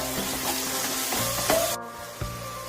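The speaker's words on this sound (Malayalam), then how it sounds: "നന്നായിട്ട് തന്നെ മൂപ്പിച്ചെടുക്കട്ടോ" Crushed green chilies sizzling as they fry in oil, a close, steady crackle with a few stirring clicks, the hiss cutting off abruptly near the end.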